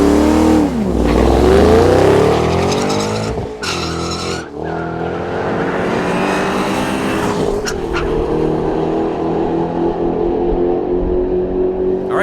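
A 2014 Mustang GT500 makes a drag strip quarter-mile run, its engine loud and close, revving hard through rising, falling sweeps with a tire-squealing launch, then a sustained high-power drone to the end.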